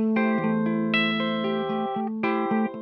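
Bright, slightly distorted chords from a 2019 Gibson SG Modern electric guitar on the bridge pickup ring out up close, struck in a few separate strums with sustained, buzzy tone.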